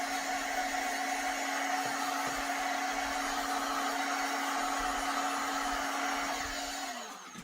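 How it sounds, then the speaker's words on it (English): A heat gun blows steadily on wet paint on a DIY craft kit, a close, constant whooshing roar with a tonal whine that holds for several seconds and then winds down at the end. "So I'm going to go ahead and heat that with the heat gun."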